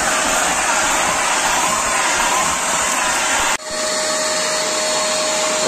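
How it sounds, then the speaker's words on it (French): A Parkside PWD12A1 wet and dry vacuum cleaner runs with a loud, steady whine and airy roar that briefly dips in one sudden break, then resumes at full strength. "je valide complètement cet aspirateur"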